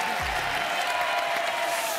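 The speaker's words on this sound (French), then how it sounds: "qu'on applaudisse très très fort, mon ami Agustin Galliana" Audience applause on a French TV game show grand final, a dense steady clapping wash from a studio crowd, continuous and fairly even throughout.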